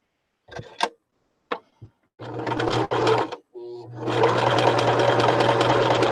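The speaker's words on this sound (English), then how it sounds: "you just lift up your presser foot, go to the corner, make sure your needle's down, and then turn your work, and then keep sewing" A sewing machine stitches a fabric clutch: a few short clicks and bursts as the work is positioned and turned, then a sustained steady run of stitching at close range.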